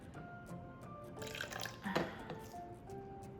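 Water poured into a container sitting on a kitchen scale while measuring for cold process soap, a light trickling and dripping with splashy bursts in the middle, close and fairly quiet.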